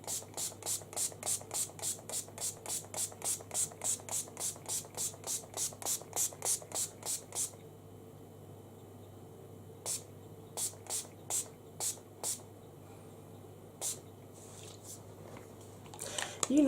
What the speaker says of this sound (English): I'm going to use my I Heart Makeup fixing spray and liberally douse my face